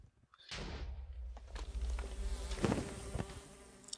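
Minecraft bees buzz in a steady, fairly loud drone with game sounds layered over it. A wither is attacking them, and a few sharper thumps break through the hum.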